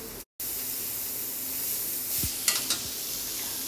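Grated raw carrot hits a hot pan and sizzles steadily, a soft continuous frying hiss with a few brief scraping stirs near the end.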